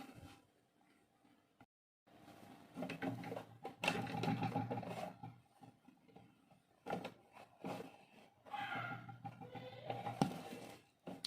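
A sewing machine running a topstitch along an overlock seam on a dress, several bursts of fast, close whirring separated by quiet pauses, with no talk.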